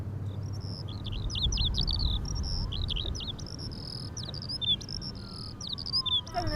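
Outdoors, small birds repeat quick high chirps and trills in short bursts over a low rumble of background noise, with a faint insect-like buzz.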